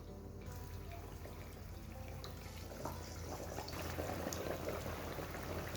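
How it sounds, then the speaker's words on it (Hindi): Mathri dough pieces fry in hot oil, a faint, steady bubbling sizzle that runs continuously without any talk. "उलट पुलट करते हुए मठरियों को फ्राई कर लिए"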